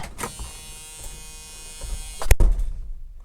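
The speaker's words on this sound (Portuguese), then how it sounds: "esses sons que tem, porta aberta, quando você está sem cinto" A Ford Maverick Grabber's door-open and unfastened-seatbelt warning gives off a steady buzzing tone for about two seconds, then a sharp, heavy thud cuts in and low rumbling follows.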